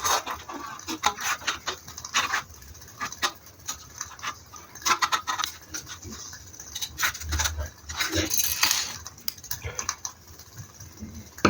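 Scissors snip through a thin aluminum beer can being cut into a rough blank for an alcohol stove, giving a run of close, crisp clicks and metallic crinkles in irregular bursts.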